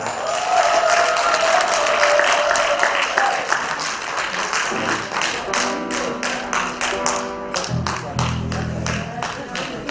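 A crowd applauds steadily for a band at a live music show, with dense clapping throughout. Later it turns to rhythmic clapping, and a loud voice talks over it.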